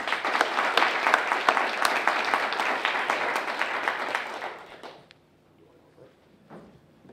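An audience at a literary festival applauds to welcome speakers, a dense sustained clapping that fades out after about five seconds, leaving a quiet room with faint shuffles.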